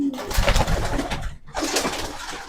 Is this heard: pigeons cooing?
yes